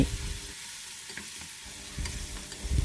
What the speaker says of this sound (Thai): ใส่ปลาหมึกและหอมใหญ่ลงไป ผัด ผัดไปมาพอปลาหมึกหดตัว